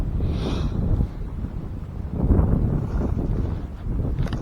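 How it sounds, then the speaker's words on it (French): Strong, cold northeast wind on a lakeshore while fishing, buffeting the microphone in loud, uneven low gusts that swell and ease over a few seconds, with no talk. "Alors là, on a un vent de nord-est, donc je peux vous dire qu'il fait vraiment très froid."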